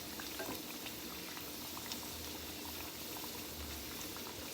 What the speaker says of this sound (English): as I'm basting it with the hot oil, it's actually cooking the top side